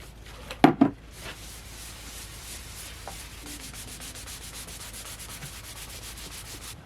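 A cloth rubbing finish into a leather Jedi cosplay belt gives a soft, steady brushing texture after two louder opening scrapes, close and low in level throughout.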